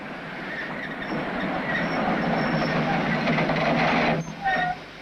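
Train rolling on rails at the Turkish-Soviet frontier in 1964, a steady, close rumble and clatter of wheels on track that swells slightly, with a brief squeal and a jolt near the end.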